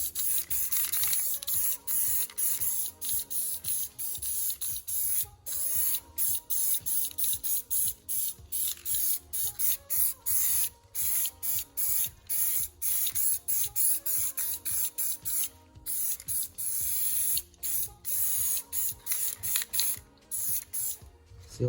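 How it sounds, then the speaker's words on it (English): A VHT spray paint can hisses in many short, close, rapid bursts as a Yamaha FJ1200 motorcycle fairing is painted, with tiny gaps between the sprays and occasional clicks from the nozzle. "Give it another little second blast with the block."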